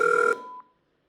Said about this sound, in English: Now I'm receiving this call on my phone.